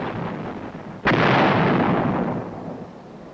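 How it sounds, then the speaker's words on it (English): Heavy artillery gun fires a single loud, close blast in combat, a sharp crack followed by a long rolling boom that slowly fades over a steady background rumble. "All along the line, you'd find little batteries of guns going about their work."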